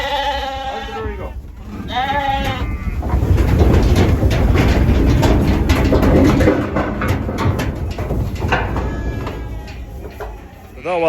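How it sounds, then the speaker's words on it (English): Several sheep and lambs bleat loudly and close by in corrals, with a steady rumbling noise underneath and a person's voice mixed in. "Come on, lammy lambs."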